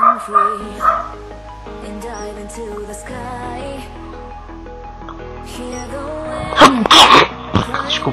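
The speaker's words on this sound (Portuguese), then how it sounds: "Corta esse espirro da live do vídeo." A single sharp sneeze bursts out near the end, loud and close, during a live-streamed AQW game session. Soft game music and tones play underneath, with a few short bursts before it.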